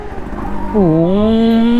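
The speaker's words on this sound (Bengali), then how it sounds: "আওয়াজটা ভাই অস্থির একটা আওয়াজ দিতেছে এই গাড়িটায়" A Yamaha CDI 100 motorcycle engine idles, then revs up with a loud, steady rising drone that holds close by.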